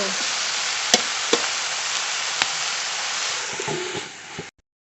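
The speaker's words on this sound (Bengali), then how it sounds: "কষিয়ে নেবো আস্তে আস্তে জাল দিয়ে" Fish and bottle gourd curry frying in a pan over low heat, a steady loud sizzle with a few sharp utensil taps, fading out at the end.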